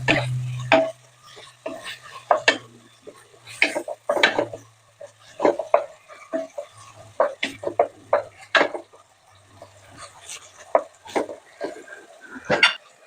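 Pancit palabok sauce being stirred in a cooking pot: a run of irregular clinks and scrapes of a utensil against the pot, close and fairly loud, with brief quiet gaps between strokes.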